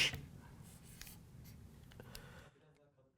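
A thick pen scratches across paper in short strokes and taps, fairly close and soft, before the sound drops away near the end.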